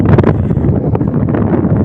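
Steady sea wind gusts buffet the microphone in a continuous low roar with no voices, on a coast near the Bahrain border in Saudi Arabia.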